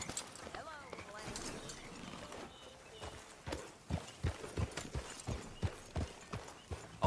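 Horse hooves clip-clop in a steady walking rhythm in the video game Red Dead Redemption 2, growing clearer and more regular, with voices talking early on.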